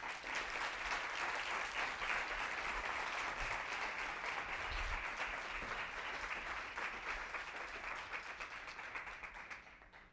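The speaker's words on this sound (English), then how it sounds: "Give one more round of applause" Sustained audience applause at the close of a talk by Brian Cuban, a dense, steady wash of many hands clapping that carries on for about ten seconds before easing slightly at the end, with no talking over it.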